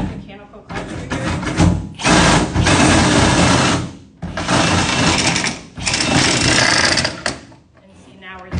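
A RIDGID FlexShaft drain cleaning machine spins its cable in loud bursts of whirring, separated by brief pauses, close up.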